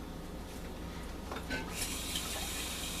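Water pours steadily into a cooking pot for rice, a continuous close splashing rush that brightens and swells toward the end as the pot fills.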